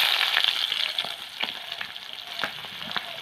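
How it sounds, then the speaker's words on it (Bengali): Chopped onions sizzling and frying in hot oil with whole cumin seeds, a steady crackling hiss with occasional stirring clinks from a spatula, close and moderately loud. "পেঁয়াজটাকে আমি হালকা একটু ভেজে নেব।"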